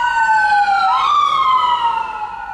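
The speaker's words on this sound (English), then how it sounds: "Ambulance." An ambulance siren wails, sweeping down and back up in pitch, loud and steady, with no talking over it, heard from a transmission repair shop.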